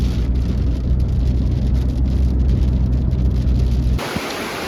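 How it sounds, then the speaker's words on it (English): Steady, dense rain hisses loudly on a moving car, a constant wash of drops over low road rumble, ending with a sudden shift in tone. "Just kind of a short shot of rain, but it is raining."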